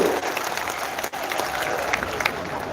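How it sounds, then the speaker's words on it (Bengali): A crowd of college students applauding loudly for the education minister at a college golden jubilee event, dense sustained clapping filling the hall with a brief dip partway through. "ওনার উদ্দেশ্যে আমরা জোরে হাততালি দিচ্ছি, জোরে হাততালি"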